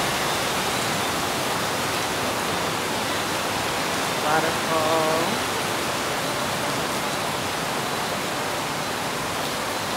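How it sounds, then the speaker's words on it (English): Waterfall at a resort in Jamaica, pouring as a loud, steady, broad rush of water that fills the whole scene. A voice speaks once, briefly, partway through. "Waterfall."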